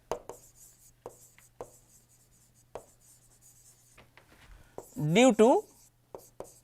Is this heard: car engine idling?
no